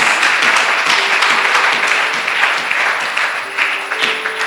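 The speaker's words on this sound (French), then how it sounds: "Give applaud," Church congregation clapping at a healing and deliverance service, dense rapid applause filling the room, steady and loud throughout.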